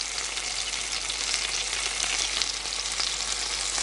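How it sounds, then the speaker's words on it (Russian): Homemade meat cutlets fry in a pan, turned to cook the other side, with a continuous close crackling sizzle of hot oil and no talk. "Это уже с другой стороны обжариваем"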